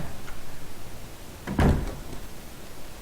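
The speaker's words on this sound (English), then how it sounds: "Let's go through the door." A door opening in Resident Evil HD Remastered, heard as one short, solid thunk with a brief creak around the middle, alone against a faint low ambient hum.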